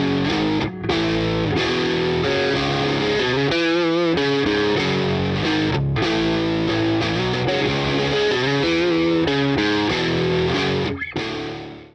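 Electric guitar through a Line 6 Pod Farm 2 Platinum mid-gain amp tone plays chords and riffs continuously, crunchy but not heavily distorted, ending abruptly.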